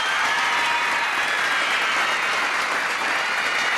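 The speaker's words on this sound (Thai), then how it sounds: "ขอเสียงปรบมือดังๆด้วยครับ" Loud, dense audience applause on a Thai game show as a trophy is handed over, a continuous roar of clapping holding steady from start to finish.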